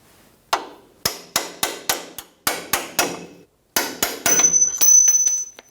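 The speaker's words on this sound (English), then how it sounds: "Using a punch, we're going to push the bolt through the shock." A hammer strikes a steel punch to drive a bolt out of a front shock absorber on a 2005-2010 Toyota Tacoma, with about fifteen sharp metallic blows in quick uneven bursts and brief pauses between them.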